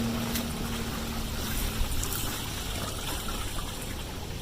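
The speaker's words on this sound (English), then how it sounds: "it's filling with fresh water" Fresh water running into an RV's fresh water tank, a steady, dense rushing and gurgling flow that stays constant and fairly close throughout, with no speech over it.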